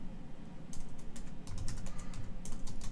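Typing on a computer keyboard while entering text for a Pinterest pin, a quick run of close, crisp key clicks in irregular bursts with no voices.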